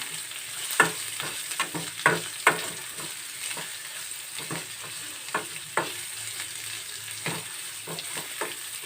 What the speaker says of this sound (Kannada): ಈರುಳ್ಳಿ ಕೆಂಪುಗಾಗುವವರೆಗೂ ನೀವು ಫ್ರೈ ಮಾಡ್ಕೋಬೇಕು